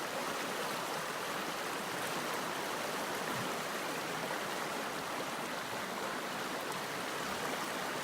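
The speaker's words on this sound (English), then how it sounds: "We're over here at the North River." The North River in a Virginia national forest flows past a campsite with a soft, continuous rushing hiss, steady and somewhat distant, with no voices.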